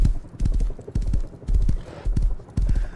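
Horse hooves clip-clop in a video game, several quick clustered bursts of heavy hoofbeats at a galloping rhythm, close and fairly loud, separated by short gaps.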